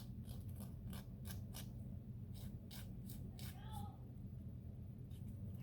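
A nail file rasps downward against excess nail polish strip edges in short, close, quiet strokes, repeated in an irregular rhythm with brief pauses.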